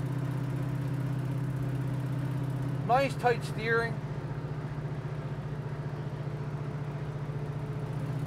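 Inside a 1969 Chevrolet Camaro Z28 on the road, a steady low engine hum with an even pulsing drone runs throughout while someone speaks briefly over it.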